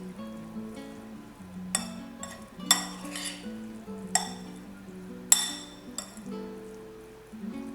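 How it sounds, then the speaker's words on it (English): Spoons and utensils clink against a dish while sweet corn chaat is mixed with lemon juice, several sharp clinks at irregular intervals over soft handling sounds, close and fairly quiet. "And again mix it."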